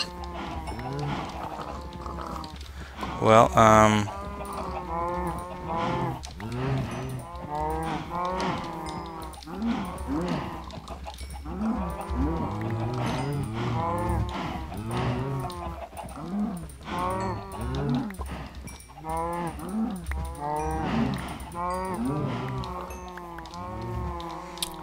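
Several cows moo repeatedly in a Minecraft-style modpack game, overlapping drawn-out bovine calls filling the scene, with a brief louder burst early on and someone speaking only briefly.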